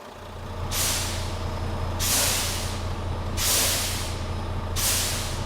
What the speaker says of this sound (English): We're going to fan the brakes down to 90 psi.